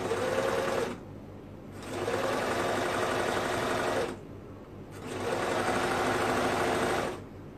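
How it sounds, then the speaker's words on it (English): A sewing machine stitching the inseam of boys' mesh shorts runs in three steady, close bursts of whirring, separated by short pauses, with no talk over it. "we're gonna sew that"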